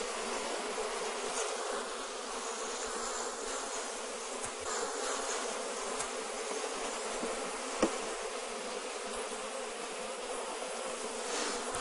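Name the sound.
honey bees buzzing around an open hive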